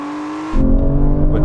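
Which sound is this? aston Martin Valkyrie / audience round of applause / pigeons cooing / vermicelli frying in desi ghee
aston Martin Valkyrie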